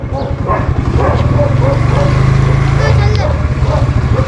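A dog barks repeatedly at children nearby, with its yaps and whimpers mixed under overlapping voices of people talking close by.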